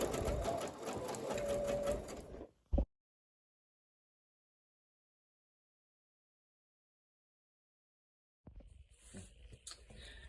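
A sewing machine stitches a quarter-inch seam around fabric corners, a loud rapid patter for about two seconds, then a click, long silence, and a brief resumption of stitching near the end.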